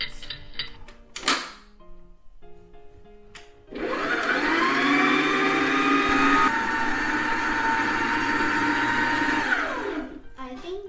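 An electric mixer kneading dough for scallion pancakes whirs steadily for about six seconds after some brief clattering, a loud motor drone that stops abruptly near the end.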